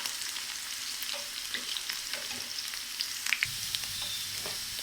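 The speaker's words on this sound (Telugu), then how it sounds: "చక్కగా ఫ్రై అవుతున్నది." Bitter gourd pieces frying in a pan, a steady crackling sizzle with soft stirring clicks throughout, close and continuous with no voices.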